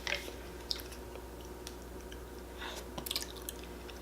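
Close, wet chewing and smacking on spicy gluten-free noodles, with soft moist clicks and a few sharper bursts of mouth sounds over a low steady background hum.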